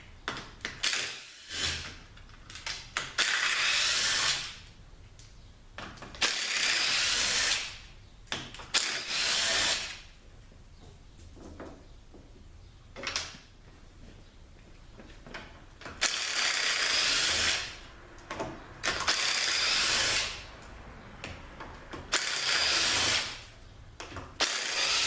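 A hand ratchet loosens the channel plate bolts on a 4T40E automatic transmission in repeated bursts of fast clicking, close up, with short pauses between bolts and no talking.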